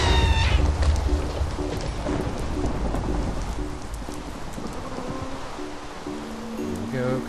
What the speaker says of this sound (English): Lightning just struck this one.